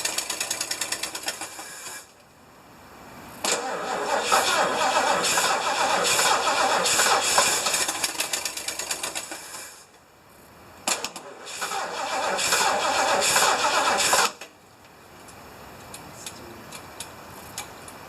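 A 1975 Lincoln Continental engine cranks and catches twice, each time running rough and loud for several seconds before dying, with clicking ticks and quieter gaps between attempts.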